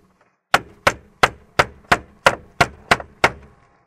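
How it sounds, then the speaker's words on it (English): Eight sharp, evenly spaced hammer blows strike an airbag unit on a 2005-2011 Ford Crown Victoria P71, each a loud crack with a short dull decay, no voices. "And whack it with a hammer."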